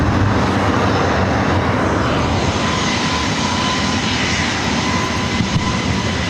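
A Delta or KLM jet airliner at LAX airport roars continuously and loudly, a dense, steady engine rumble filling the whole stretch with no voices over it.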